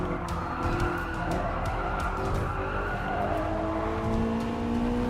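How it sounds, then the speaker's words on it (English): Race car in Gran Turismo Sport running flat out down a long straight, a steady loud engine drone with rising and shifting pitch, tire noise and faint clicks underneath, continuous with no talking. "I just always love to use this car to go on fast on long straights"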